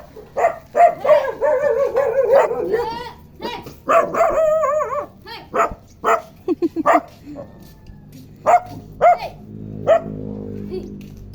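A dog barks repeatedly nearby, sharp yips and barks in irregular bursts, with some whining in between and a person's voice now and then.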